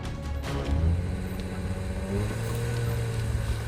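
A vehicle on a long road trip, running with a defective transmission filled with engine oil, drones along at a steady mid-pitched engine hum with slight rises in revs, close and continuous, with no talk.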